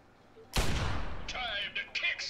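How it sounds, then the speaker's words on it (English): A single loud gunshot in Fallout 3: Broken Steel, a sharp blast at a distance with a long rumbling decay, followed by fainter high-pitched game effects. "I think I shot at him from a bit far away there"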